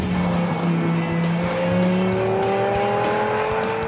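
A sports car accelerates hard with rising engine revs and brief tire squeal, loud and close throughout, with no talk over it.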